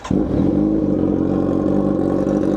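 A Kawasaki Z1000R motorcycle with dual mufflers revs close and loud, a deep steady engine roar rising from idle and holding for a couple of seconds.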